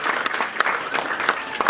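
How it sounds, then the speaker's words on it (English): Audience applause at a televised banking quiz semi-final, steady clapping from a studio crowd with scattered sharper claps, moderately loud throughout the short stretch. "Let's clap for them."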